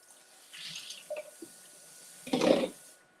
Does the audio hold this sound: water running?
yes